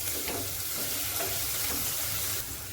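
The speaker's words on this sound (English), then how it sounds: "You have to cook this onion till it looks translucent." Onion fries in a pan until translucent for dal makhani, a quiet, even hiss and sizzle throughout without speech.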